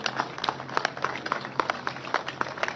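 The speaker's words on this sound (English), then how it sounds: "let's give them a round of applause." At a donation announcement at the Javits Center, a small gathering applauds the National Guard with fairly faint, loosely rhythmic clapping. Individual claps stand out against a low background hum.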